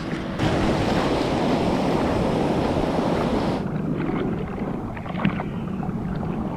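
A bodyboarder paddles out through ocean surf at Toucheng, Taiwan, under a dense, roaring wash of water and heavy wind buffeting that softens partway through, with no voices.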